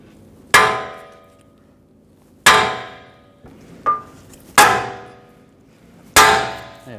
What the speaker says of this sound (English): Just pry this down and just give it a tap with a hammer right there.